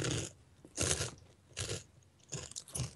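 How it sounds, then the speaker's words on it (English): Crunchy Scooby-Doo cereal being chewed close up, with repeated loud crunching bites in a steady rhythm of about four bursts, no talking. "So hopefully you can hear me chewing I can hear or it. crunching."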